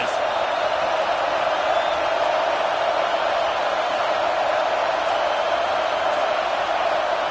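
Steady stadium crowd roar in a football video game, a dense even wash of cheering that holds at the same level throughout with no clear breaks.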